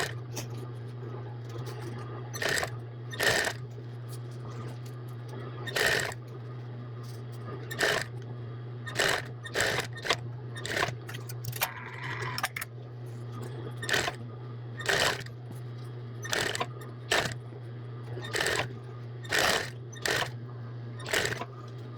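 A sewing machine stitches a ruffle onto a women's apron, back-stitching at each end: a steady low motor hum runs throughout, broken by a long series of sharp, regular clicking bursts from start to finish.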